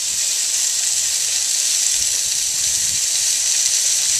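A preheated, oiled Dutch oven over a half chimney of charcoal briquettes at an outdoor cooking table gives off a steady, bright hiss, loud and unbroken, with no talking.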